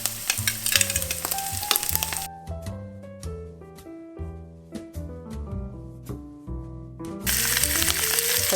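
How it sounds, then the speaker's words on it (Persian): Lamb shanks fry with already fried onions for Persian herb rice, the loud crackling sizzle strongest at the start and end, while background music dominates the quieter middle. "حالا میخوام ماهیچه ها رو باهاش یه تفت بدم"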